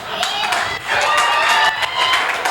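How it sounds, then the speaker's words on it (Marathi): Applause and scattered cheering from an audience at a youth discussion event, a dense steady patter of clapping that swells midway and continues throughout, with voices mixed in. "थांबा टाळ्या नका वाजवू"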